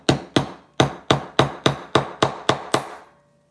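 Ten sharp hammer strikes ring out on wire for a Luckenbooth pendant, evenly spaced and close, each with a short metallic decay, and the last blow fades into quiet.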